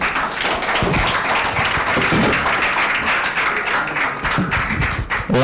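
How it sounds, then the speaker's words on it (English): Audience at an agribusiness public-private dialogue applauding, loud close clapping with distinct individual claps and a few thumps, steady from start to finish. "A round of applause for this man."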